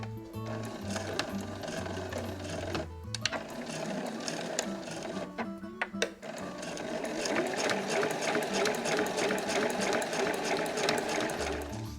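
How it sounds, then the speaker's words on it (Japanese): A sewing machine stitches quilted nubi fabric for a trunk-style tablet case, fitted with a zigzag presser foot, running in a steady loud mechanical whir with a few short pauses for backstitching. "では返し縫いして最後も返し縫いしましょう。"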